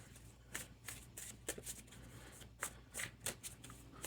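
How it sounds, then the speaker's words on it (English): A deck of game action cards being shuffled, a run of quick papery riffles and flicks at a steady pace, close and quiet, with no talking. "Let me shuffle the game action cards also."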